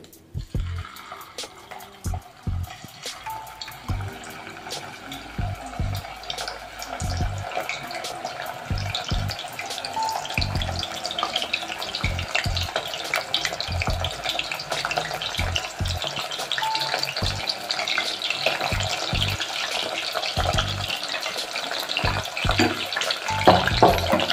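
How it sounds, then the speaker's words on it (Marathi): Paneer pieces fry in hot oil in a home kitchen for paneer chilli, giving a steady, dense sizzle and crackle that holds for the whole stretch, with occasional clinks and stirring. "आता आपण हे पनीरचे तुकडे तळून घेऊ तेलामध्ये"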